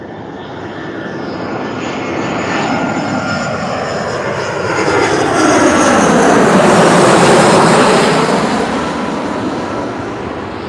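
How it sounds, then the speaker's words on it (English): A Brussels Airlines Airbus A320 arrives at Tenerife South Airport, its jet engines roaring loudly overhead in a broad, steady wash that builds to a peak and then eases slightly as it passes, with no voices. "we've got another aircraft coming in, so I'll just stop talking there"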